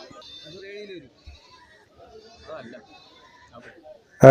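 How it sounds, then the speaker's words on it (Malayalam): Goats at a goat market in Kerala give a few wavering bleats close by, separated by quiet gaps, with scattered faint chatter and a sudden loud bump at the end. "ഇവിടെ അവർ കച്ചവടത്തിനായിട്ട് ആടിനെ കൊണ്ടുവന്നിരിക്കുകയാണ്"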